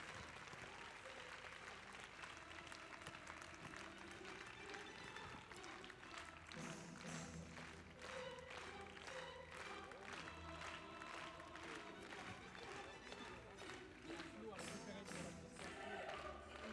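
Sustained applause from a large crowd honoring champions at the Saut Hermès show-jumping event in Paris's Grand Palais, mixed with loud music and thuds, continuous and dense throughout.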